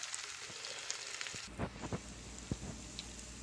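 Noodles, hot dogs and carrots sizzle steadily in a skillet, with soft frying hiss broken by a few sharp pops and clinks of stirring, close and moderately quiet.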